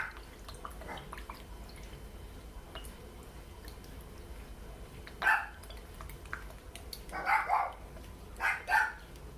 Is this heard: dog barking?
yes